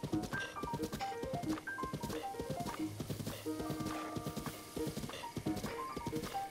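A horse's hooves clip-clop at a steady trot in Zelda: Breath of the Wild, the quick rhythmic footfalls running throughout alongside light game music tones.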